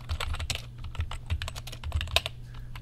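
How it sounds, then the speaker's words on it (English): Rapid, uneven clatter of keys being typed on a computer keyboard, close and fairly quiet, as assignment instructions are entered into an online course form; no speech. "in this box I can type my instructions"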